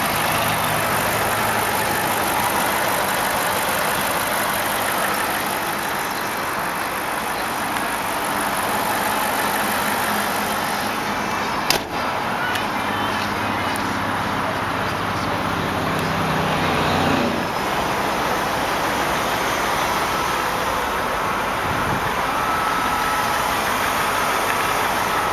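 The 4.4 liter engine of a 2003 BMW 745i idles smoothly and quietly at a steady level, with a faint high whine above it and one brief click partway through.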